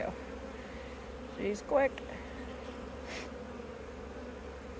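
Honeybees buzzing softly around an open hive during a spring inspection, a faint steady drone with a few brief nearer passes, while someone speaks briefly.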